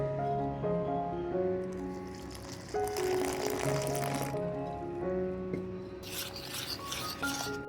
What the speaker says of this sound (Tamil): இதை நல்லா தண்ணியில் கரைச்சிக்கணும்